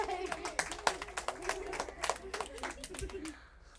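A classroom of people claps along in an uneven, roughly steady rhythm of sharp claps that fades toward the end, with a voice speaking over it.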